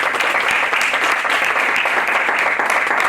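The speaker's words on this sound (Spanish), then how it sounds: "Un aplauso, por favor." Steady, dense applause from an audience at a round-table panel on transparency and good governance, sustained and even throughout without a break.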